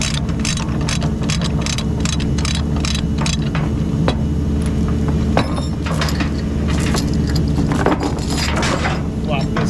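A tie-down chain being pulled off an equipment trailer, with repeated metallic clinks and rattles at irregular intervals over a low engine-like rumble.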